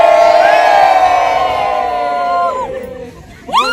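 A crowd of weekend visitors at a tourist spot near Satara, voices and shouts blending into a loud, steady bustle with high excited calls rising over it, fading slightly before a sharp burst of cries at the end.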